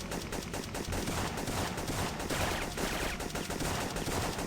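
Dense, continuous video-game gunfire from Syphon Filter rattles in a loud rapid burst throughout, with no talking over it.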